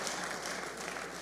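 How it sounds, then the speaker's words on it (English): Congregation clapping hands together at a church service, a dense steady wash of applause filling the short stretch without pause, fairly loud and close. "Let's clap our hands because he has finished the service."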